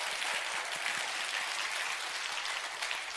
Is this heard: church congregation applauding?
yes